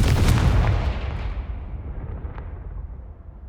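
A fiery Confringo spell blast in the Hogwarts Legacy video game bursts with a loud, close boom and then rumbles away into a fading, crackling tail.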